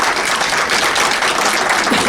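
Steady applause from an audience at a town hall meeting in Peoria, dense and even throughout without clear gaps.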